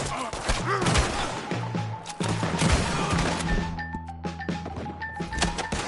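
Gunfire in Red Dead Redemption 2, a dense spray of sharp shots and impacts running through the whole stretch amid game music and clatter, with voices shouting over the chaos.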